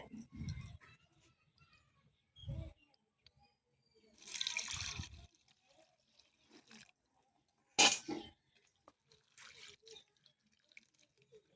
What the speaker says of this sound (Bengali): চিঁড়েটা ভালো করে ধুয়ে নেব